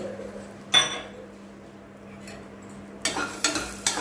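Peanuts dry roasting in a pan are stirred with a spoon, giving a single scrape early on, then a run of scraping and rattling strokes at the end over a low, quiet background hum.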